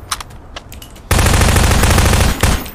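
Video-game gunfire during a fight against a T-Rex: a few faint shots give way to a loud, sustained automatic burst that continues steadily before briefly dipping near the end.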